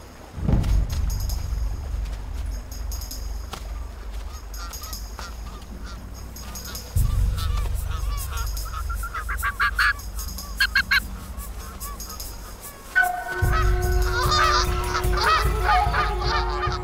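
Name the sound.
Canada geese honking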